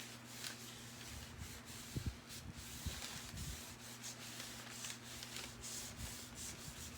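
Sanding a wooden 1980s hall tree during a farmhouse-style makeover, continuous close rubbing strokes in a steady back-and-forth rhythm over a faint electrical hum.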